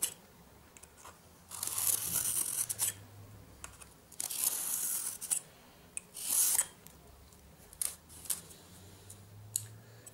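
Protective paper layer being peeled and torn off a sheet of foam board, several bursts of crisp ripping and scraping separated by quiet pauses, close and fairly loud.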